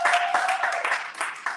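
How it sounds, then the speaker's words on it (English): A business growth bootcamp audience claps for a speaker's introduction, with a short burst of brisk, fairly faint applause that pulses briefly without talk. "I want a big round of applause for Mr. Jim Padilla."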